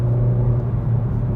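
A car's engine holds a steady, loud low rumble at close range while it is driven spiritedly through a corner, with no voices over it.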